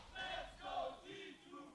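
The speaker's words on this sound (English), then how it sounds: "Seems like crowd chanting is a turn-based game as well." A League of Legends esports crowd chants in distant, rhythmic waves of massed voices, rising and falling in alternating bursts at low volume.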